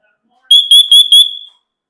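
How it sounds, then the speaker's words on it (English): A SITERLINK hardwired smoke and carbon monoxide detector sounds its alarm: four loud, shrill, piercing beeps in quick succession, the last one trailing off, with nothing else audible. "obviously has an ear-piercing alarm you will not miss"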